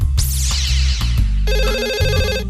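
A telephone rings, a bright electronic ringtone pattern repeating loudly and close, mixed over a thumping musical backing.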